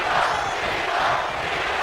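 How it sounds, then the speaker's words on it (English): WWE 2K24 arena crowd chanting for John Cena, a dense, steady roar of many voices filling a short stretch. "The crowd is firmly behind Cena, with the chants of his name echoing throughout the arena."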